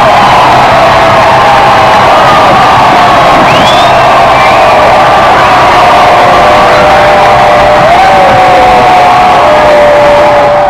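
A huge, cheerful crowd roars its welcome at a public appearance of King Charles: a loud, dense, unbroken roar of many voices, with whistles and whoops rising above it throughout.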